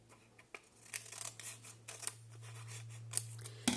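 Scissors snip through paper along a marked line, a quiet close series of irregular crisp cuts and rustles over a low steady hum, with no talking.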